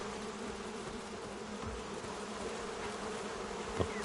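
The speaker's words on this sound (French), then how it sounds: "n'aie pas peur de tes abeilles de nouveau." Bees buzzing in the video game Crimson Desert, a steady, close insect drone with a faint hum of the game ambience underneath and a brief click near the end.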